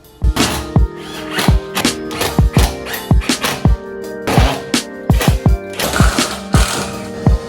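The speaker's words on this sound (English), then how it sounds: "So I'm gonna start screwing it in" Repeated ratcheting clicks as screws are driven in to fasten a forged carbon fiber front lip onto a BMW M4, sharp close bursts in an uneven rhythm with brief pauses between turns.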